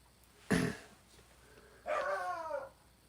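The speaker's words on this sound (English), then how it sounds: "And that's my dog in the background." A dog barking in the background of a live-streamed reading session: one short, sharp bark, then after a pause a longer, whining, drawn-out yelp, both moderately loud.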